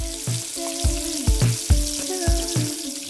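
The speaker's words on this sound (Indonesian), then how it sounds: "goreng ikan cakalangnya ke minyak panas" Skipjack tuna fries in hot oil, a steady sizzle with repeated bursts of crackling and spatter as pieces are added or shifted in the pan, close and loud with no talking.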